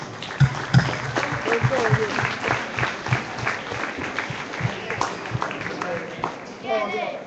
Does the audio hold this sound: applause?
yes